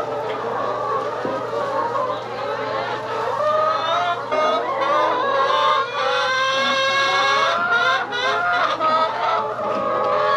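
A flock of chickens cluck and squawk in their pens on fresh bedding, continuous overlapping calls close by with a few louder drawn-out cackles, and a steady low hum beneath.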